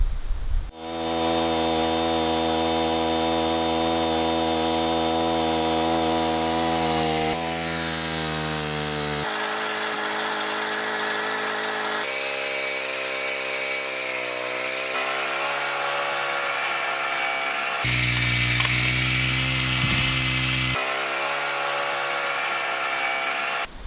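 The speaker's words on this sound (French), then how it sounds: "en tirant sur la corde, quand le tambour va retourner, mon treuil lève" A PCW 3000 portable forestry winch running and lifting, its petrol engine droning with a strong, steady tone that shifts pitch in several distinct steps as the load and throttle change, loud and close throughout.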